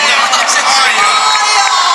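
A large concert audience cheers and whoops loudly and continuously, a dense roar of many voices from a packed crowd at an outdoor music event.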